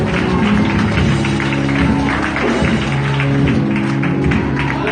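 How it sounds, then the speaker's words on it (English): A church congregation claps along to loud gospel music, the steady beat of hands mixed into sustained instruments and voices throughout. "Clap those hands like you're in the video this morning"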